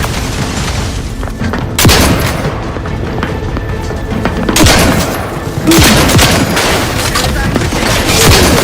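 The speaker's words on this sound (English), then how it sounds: "Explosion imminent!" Explosions and sustained gunfire from a combat scene in the video game Outer Worlds 2, loud and dense throughout, with heavy booms swelling at several points over constant rattling shots.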